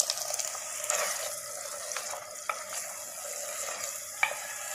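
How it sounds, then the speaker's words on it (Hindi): Chicken handi masala in a pot sizzling steadily as tomato puree made from two tomatoes goes into it, with a few soft clicks and stirring scrapes and no talking. "अभी 2 टमाटरों की मैंने प्यूरी बना ली है, ये मैं इसके अंदर शामिल करने लगा हूँ।"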